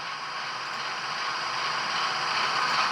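Steady hissing air-compressor loop from a Bachmann Class 08 model shunter locomotive sound decoder, a continuous broadband rush that swells slightly louder toward the end, with no voices.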